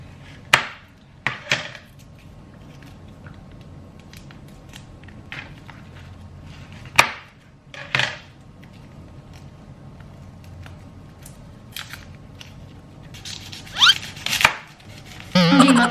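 Sharp knife strokes on a cutting board chopping onion with a dull kitchen knife, scattered single chops and short bursts spread out, fairly close and distinct over a quiet room.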